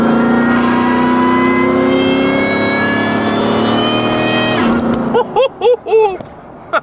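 Supercharged truck revving hard, a loud high supercharger whine rising in pitch over the engine roar for several seconds before cutting off, followed by short spoken bursts.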